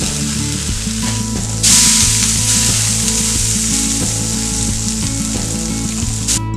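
Shrimp skewers sizzling on a grill, a loud continuous frying hiss with crackling spatter, swelling brighter partway through as the skewers are moved around, close up and with no voices.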